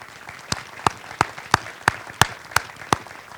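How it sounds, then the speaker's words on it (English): Audience applause at an Army Stryker brigade change of command ceremony, heard as a series of sharp, evenly spaced claps ringing out about three times a second over a quiet room, moderately loud and with no talk. "Please join me in a round of applause for Alethea"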